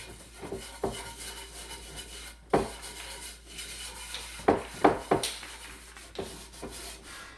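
Seasoning being rubbed by hand into a cast iron pan, a series of quiet, close scrubbing and rubbing strokes at an uneven pace with a few brief clunks, otherwise quiet with no voices.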